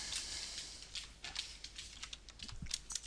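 Rapid keystrokes on a computer keyboard while typing Chromecast into a search field, a steady close-up patter of clicks with no talking.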